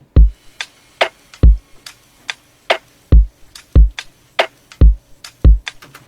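An electronic drum loop in a track plays punchy, booming kicks and crisp snare hits with a ticking percussion loop and ride cymbal taps in a steady groove, with no voices.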